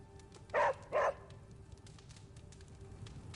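Two loud, close barks a half-second apart from a puppy named Charlie, in a video game, followed by quiet background ambience.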